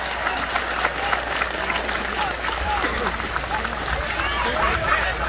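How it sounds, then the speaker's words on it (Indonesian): A crowd at a religious gathering with Indonesian migrant workers in Taiwan applauds loudly and continuously, thick overlapping claps mixed with some cheering and chatter. "Tepuk tangan untuk BMI"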